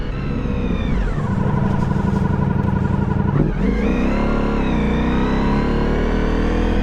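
Ducati motorcycles, a 2025 Multistrada RS, Pikes Peak and V4S, ride close past a skip lorry on a test ride, with loud steady engine drone and rising and falling revs as they pull around it.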